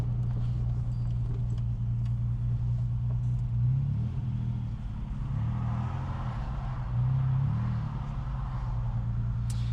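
Ford Capri 2.8 Injection cruising along the A30 in Cornwall, a steady low engine drone with gentle swells as the car picks up pace, heard from inside the cabin without talk.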